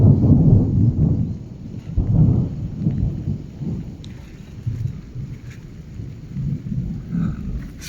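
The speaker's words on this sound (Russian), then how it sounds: "Дождик начался." Rain starts to fall outdoors by the Sinskiye Stolby rock pillars on a river journey from Ust-Kut to Yakutsk, with heavy rolling thunder rumbling low and near in continuous waves.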